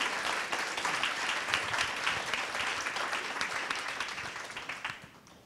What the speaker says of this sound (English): Let's have applause for the great answers and the great questions